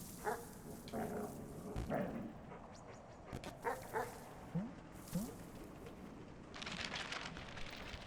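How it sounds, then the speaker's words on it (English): Dogs in the video game Animal Well give short, faint yips and barks scattered across the stretch, with quick rising whimpering tones and a soft hiss building near the end. "We can go up there, but we still have to deal with those dogs."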